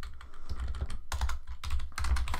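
Rapid, close-up clicking of keys on a computer keyboard during coding, uneven bursts of keystrokes with no voices.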